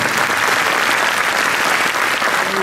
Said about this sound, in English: Can we have a round of applause for the Oceania Global High School honors?